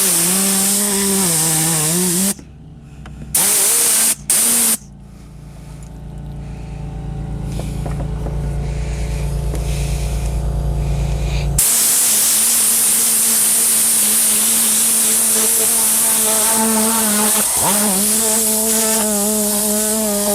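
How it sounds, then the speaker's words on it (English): A vacuum cleaner runs on a car interior, pulling up pet hair: a loud, droning motor whine with sharp cuts and restarts early on, then a sustained roar with shifting pitch as the nozzle moves. "We got our vacuum, and we're just gonna start vacuuming up this pet here."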